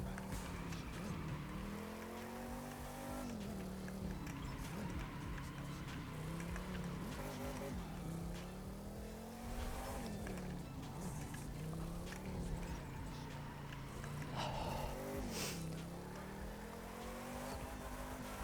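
1967 Shelby GT500 in The Crew 2 racing game, engine droning steadily with rising and falling revs through gear changes, loud and continuous for the whole stretch, some faint tire noise, no talk.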